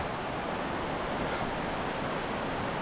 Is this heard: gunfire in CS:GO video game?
no